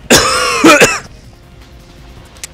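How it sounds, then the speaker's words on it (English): A single harsh cough with a throat-clearing edge, loud and close, followed by a quiet room tail. "I feel like I'm gonna cough."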